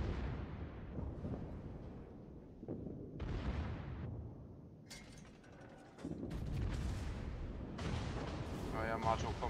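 Heavy guns of the Montana battleship boom across a World of Warships battle, several deep, rumbling blasts spread through the stretch, with a voice talking over them.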